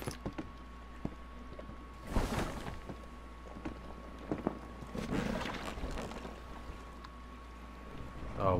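A raft sailing across open water in Stranded Deep, with steady wind noise and water lapping, broken by a few louder splashing swells and knocks of wood, no voices.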